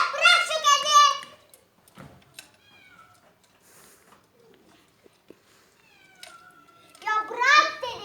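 A cat meows several times, with loud drawn-out cries at the start and the end and quieter sounds in between, while children talk nearby.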